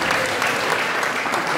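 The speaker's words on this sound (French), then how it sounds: "Et je veux qu'on acclame très fort parce qu'elle a donné la réponse." An audience applauding at a French-language sermon or gathering, dense continuous clapping close and loud throughout.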